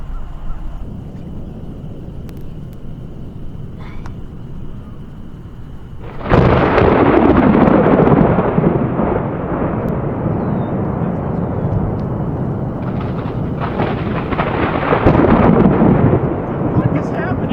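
Thunder from a lightning storm booms loudly after a quieter stretch of wind noise, rolling and rumbling for several seconds with a second surge, while people talk excitedly.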